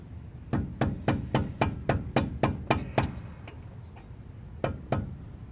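Hammer strikes tapping a brake clip back into place on a 1994 Ford Ranger during brake replacement: about ten sharp metallic hits in a steady rhythm, then a pause and two more blows, close and loud.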